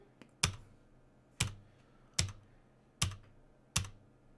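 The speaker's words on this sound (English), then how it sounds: "So I'm going to hit the spacebar." A computer keyboard spacebar is pressed repeatedly while a Scratch dice game runs: five sharp, close clicks at fairly even intervals, each with a short rattle, and no other sound around them.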